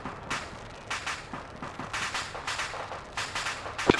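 A BTR armored vehicle cooks off in Arma 3, a rapid irregular string of sharp cracking pops from exploding ammunition, moderately distant, rattling on steadily with a sharper bang at the end.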